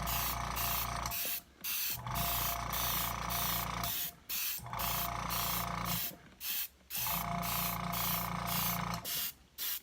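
Black spray paint hissing from an aerosol can onto a Phantom of the Opera piece, in several long close bursts separated by short pauses.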